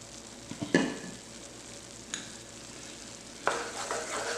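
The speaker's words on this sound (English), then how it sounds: "So we're going to slowly add our milk." Milk is poured into a hot cooked roux for a béchamel cheese sauce and stirred, giving a soft steady sizzle with a few sharp splash and scrape bursts, close up and without voices.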